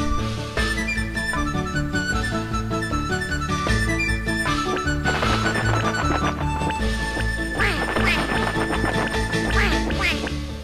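A duck quacks repeatedly in a Shenmue 2 video game cutscene, its loud, close calls set against busy in-game music and effects.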